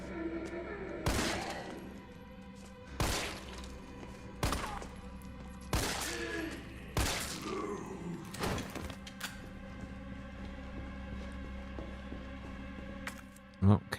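Pistol shots in Resident Evil 3, a handful of sharp, loud single cracks spaced a second or two apart, then fading into ambient game noise before one final thump near the end.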